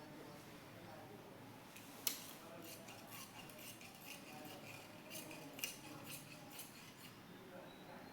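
Scissors cut blouse fabric from a saree piece, giving a series of faint, crisp snips and ticks at an irregular pace, with quiet background noise and no talk.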